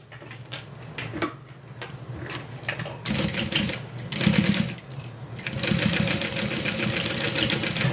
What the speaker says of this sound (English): then we're going to go ahead and stitch that in